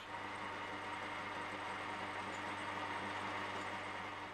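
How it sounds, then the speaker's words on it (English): A small home-built model engine runs steadily and continuously at close range, a busy mechanical chatter with no speech over it. "Okay, this is the first engine that I built."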